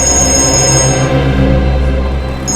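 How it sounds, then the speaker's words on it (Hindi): A mobile phone rings with an incoming call, a steady electronic ringtone with sustained tonal bands playing loud and close, alone without talk. "एक मिनट, फोन आ रहा है।"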